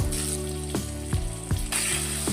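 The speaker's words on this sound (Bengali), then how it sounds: "এবার এই তেলেই কেটে রাখা আলুগুলো দিয়ে দেবো" Cut potatoes sizzle in hot oil, left over from frying a fish head, giving a soft continuous hiss under a steady tonal background with a few faint clicks.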